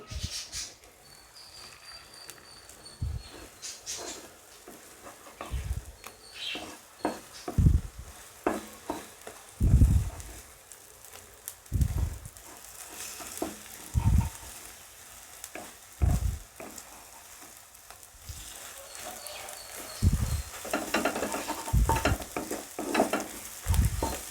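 Beaten egg mixture for an oats, ragi and jowar egg Maggi fries in a pan while a spatula stirs it, giving repeated scraping strokes in an uneven rhythm over a low background sizzle, near and without talk.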